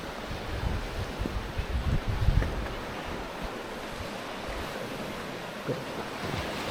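Waves wash onto Church Beach on an outgoing tide, a continuous rolling surf with a swell in the middle, mixed with gusty wind buffeting the microphone and no voices.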